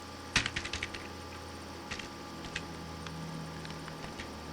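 A quick burst of computer keyboard keys pressed in rapid succession, then a few more scattered taps, close but soft over a low steady hum.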